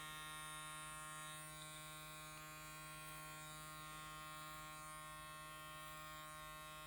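Electric hair clipper buzzing steadily at close range while cleaning up and evening out a mohawk haircut, a constant loud hum with no talk.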